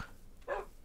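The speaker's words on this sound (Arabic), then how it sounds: "الولف الكلاب هذا الكلب" A Minecraft dog, the in-game wolf, gives a single short bark near the middle, fairly clear against quiet game background.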